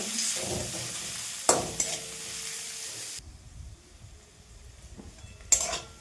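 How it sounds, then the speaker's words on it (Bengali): Steady sizzling of onions frying until reddish in a pan, with a spatula scraping and stirring now and then; the sizzle drops quieter partway through. "এবার পেঁয়াজটা একটু লাল লাল করে ভাজা হয়েছে।"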